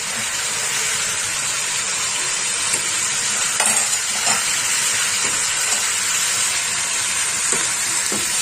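Chopped tomato frying in a pan for egg curry: a steady, close sizzle and hiss with occasional soft stirring taps, no talking.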